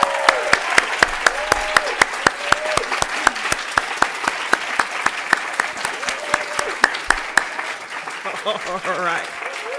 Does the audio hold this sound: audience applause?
yes